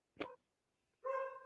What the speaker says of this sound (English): Hey, shut your fucking dog up!